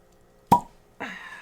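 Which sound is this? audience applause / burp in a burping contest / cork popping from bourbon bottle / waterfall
cork popping from bourbon bottle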